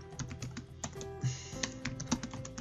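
Keys clack on a computer keyboard as a title is typed in, a run of quick, uneven taps up close with no one speaking.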